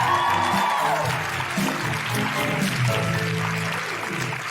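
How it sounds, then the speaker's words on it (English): A live audience at a comedy show in Canberra applauds and cheers, a dense, sustained wash of clapping with voices mixed in, fading slightly near the end. "Can I have a big round of applause for those phenomenal women"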